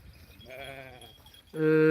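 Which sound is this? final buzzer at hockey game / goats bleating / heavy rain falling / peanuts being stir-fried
goats bleating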